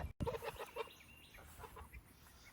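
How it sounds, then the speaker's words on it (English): Loose chickens on a small farm cluck faintly in a quick run of short notes, then soft scattered clucks continue at a distance under low background noise. "Now, got some chickens loose over there."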